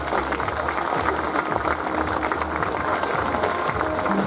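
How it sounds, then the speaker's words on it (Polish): Loud applause at a town sports gala in Lubawa for athletes nominated for the mayor's awards, a thick, even roar of hall-wide clapping sustained across the whole span. "Państwo proszę o gromkie brawa dla nich"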